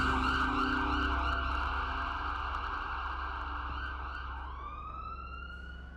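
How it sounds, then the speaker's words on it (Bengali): An ambulance siren wails loudly and continuously in a sustained electronic tone that slowly fades, with road rumble beneath, used as a sound effect in a Bengali thriller audio story. "অ্যাম্বুলেন্স ছুটল তীর বেগে"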